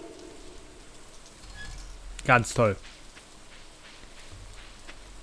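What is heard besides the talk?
rain in the video game Stardew Valley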